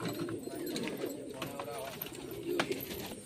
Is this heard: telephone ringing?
no